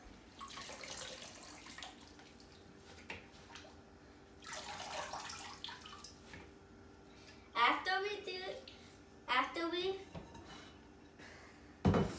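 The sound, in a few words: water draining from kale in a salad spinner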